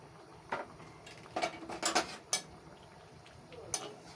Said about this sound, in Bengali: একটু নাড়াচাড়া করতে হবে